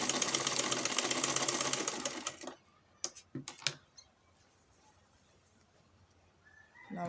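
Sewing machine stitching fabric for a pair of shorts, a loud, rapid continuous run of stitches for about two seconds, then a few sharp clicks and short bursts, with quiet handling noise after.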